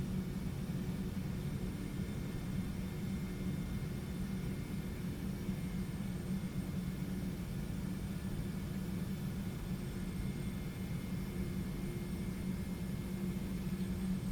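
A TFDi 717 jet in a flight simulator rolls down the runway for takeoff, a constant low engine roar with a broad hiss holding evenly throughout and no voices.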